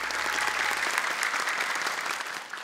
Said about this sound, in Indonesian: boleh tepuk tangan untuk Kak Nabila